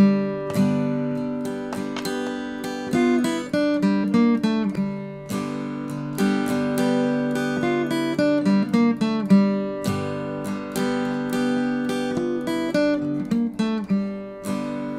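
A plucked acoustic guitar riff repeats a short melodic pattern of picked notes over ringing strings, steady and close, with no voices.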